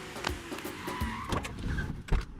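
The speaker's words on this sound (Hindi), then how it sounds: "गाड़ी की आवाज आ रही है।" Two Tata Sumo vehicles pull up, with engine rumble and door-like thumps and clunks at intervals across the short span, fairly close and moderately loud, no talk.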